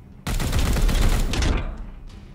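A loud, close burst of rapid gunfire from the Plague Marines video game, a dense roaring volley lasting about a second and a half before fading.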